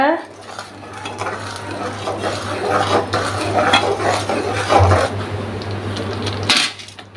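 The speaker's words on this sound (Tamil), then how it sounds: "இப்போ இதில் அரை கப் சர்க்கரையை கொட்டிக்கோங்க காய் ஓரளவு வெந்தால் போதுங்க பழம் இப்போ நல்லா கிண்டி கொடுங்க" Kiwi payasam is stirred in a pot after sugar is added, a spoon scraping and clinking against the metal in irregular strokes over a steady low hum, with a louder knock near the end before the hum cuts off.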